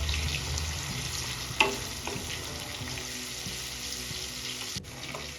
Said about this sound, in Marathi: इथे आपल्याला टोमॅटो पण छान परतून घ्यायचे आहे मेल्ट होईपर्यंत